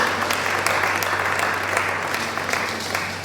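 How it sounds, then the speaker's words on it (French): A church congregation claps together in steady, dense applause that fills the room for several seconds without fading. "Acclamons pour cette parole de Dieu"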